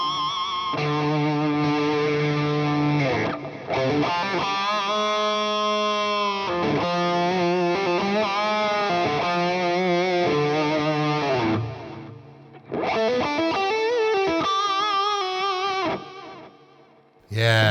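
Heavily distorted electric guitar played through a Boss IR-2 cabinet simulator with delay: sustained, saturated chords and notes ring with echoing repeats, break off briefly, then resume.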